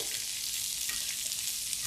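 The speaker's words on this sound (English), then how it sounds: "You can hear that good sizzle going." Steady, crackling sizzle of asparagus frying in a hot pan on a stovetop, continuous and even throughout with no voices.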